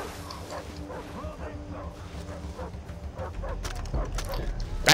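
Dogs in the Far Cry 3 video game yip and bark under a steady game soundscape, short repeated calls at moderate distance, with a louder burst toward the end.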